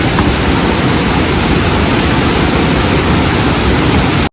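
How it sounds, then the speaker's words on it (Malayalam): Steady, loud roar of the Meenvallam waterfall in Kerala, part of Azhanjuvali National Park, with broadband rushing water filling the whole clip, no voices, cutting off abruptly at the end. "ആഴഞ്ചുവാലി നാഷണൽ പാർക്കിന്റെ ഭാഗമായുള്ളതാണ് ഈ വെള്ളച്ചാട്ടം"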